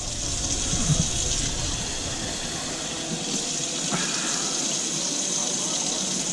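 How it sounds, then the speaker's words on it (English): Rice washed under running tap water in a sink, a steady hissing stream with splashing and occasional louder gushes throughout, while someone speaks softly under the flow. "you're just gonna wash it a few more times until the water starts getting more and more clearly"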